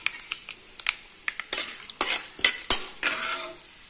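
Mustard seeds, cumin, dried red chilies and chana dal frying in hot oil, crackling in sharp bursts with a light stirring clatter, loud and close with no talk.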